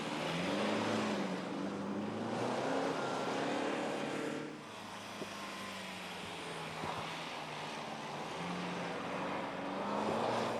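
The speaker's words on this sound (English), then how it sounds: "The well-known 177 brake horsepower engine lacks a bit of torque when getting back on the gas in the lower revs." A BMW X1 xDrive with a 177-horsepower engine drives on a low-grip surface, its engine droning steadily with rising and falling revs and a close, continuous road rumble.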